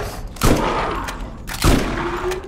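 Two heavy, separate gunshots from a small gun in Borderlands, each a sharp close crack with a ringing tail, about a second apart over low background game noise.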